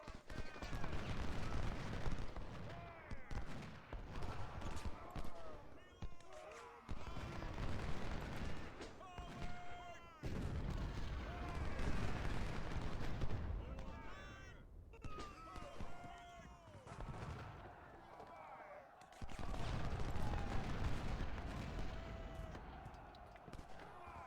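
Cannon and artillery fire from a Civil War strategy video game, repeated booms and crackling volleys in bursts, with a voice talking over the battle at times.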